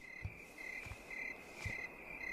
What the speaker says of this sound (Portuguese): Nem deu tempo de acreditar que existe uma grila que canta e ela já se foi.